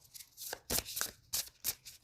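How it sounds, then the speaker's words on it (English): Tarot cards shuffled by hand in quick bursts, a series of crisp riffling and slapping sounds with short gaps between them, close and moderately quiet. "I usually like to do my own little shuffling and then draw from the top."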